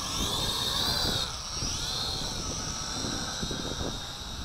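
An SY X33-1 folding drone's small motors spin up for a manual takeoff, a steady high-pitched whine with a rising pitch sweep and a rushing wind-like wash, close by, with no talking.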